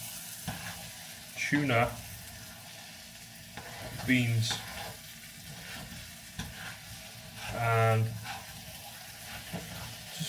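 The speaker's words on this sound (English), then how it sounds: "just frying that up in some oil" Rice, lentils, stock, tuna and beans frying in oil, crisping up, with a steady background sizzle and occasional stirring bursts, while a person talks over it at intervals.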